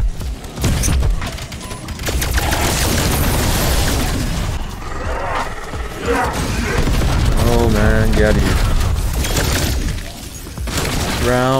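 Constant gunfire and explosions in Call of Duty Zombies on the Firebase Z map at a very high round, with loud dense bursts, booms and shattering effects throughout while a player speaks briefly.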